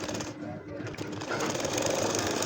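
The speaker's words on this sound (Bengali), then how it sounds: "এখন দেখেন ঠিক একইভাবে এই নিচের এই অংশটা আমি সেলাই করে নিব।" A sewing machine stitches a nakshi kantha quilt with a steady, continuous mechanical whir. It runs close and fairly loud, with no voices over it.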